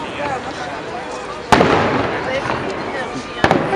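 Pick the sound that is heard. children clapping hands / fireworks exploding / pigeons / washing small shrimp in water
fireworks exploding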